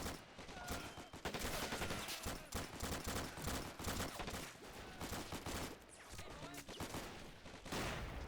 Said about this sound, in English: Just laying down hella fire here.